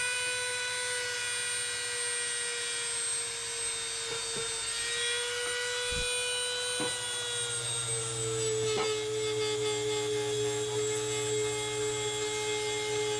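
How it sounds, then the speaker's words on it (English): A Dremel rotary tool fitted with a small sanding attachment runs at a high, steady whine, its pitch dipping briefly a few times as it bears on the work, close and continuous. "Let's see how this little sander works."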